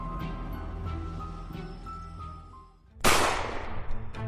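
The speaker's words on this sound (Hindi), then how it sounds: "गुड्डू के गोली चलाते इंस्पेक्टर धड़ाम से जमीन पर गिर गया" A sharp, loud gunshot sound effect cracks out in a Hindi audio drama, bursting suddenly after a stretch of background music and then ringing and decaying over the score.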